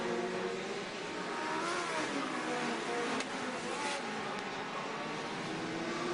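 Race car engines roar continuously on a racing oval in a Legends car race at Charlotte, a dense, loud drone with rising and falling engine pitch as cars pass, crowd and track ambience blending underneath.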